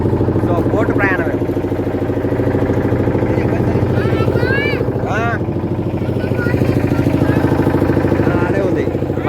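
A boat engine drones steadily throughout a ride on the Ganges from Assi Ghat in Varanasi, a loud, even motor hum with people talking over it.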